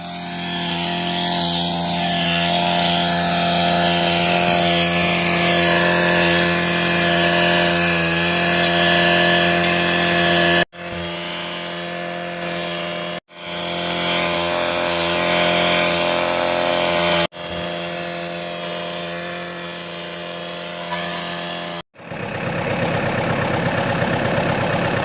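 New farm tractor engine running steadily during break-in, a constant mechanical drone heard close up across several abrupt cuts, with no talking.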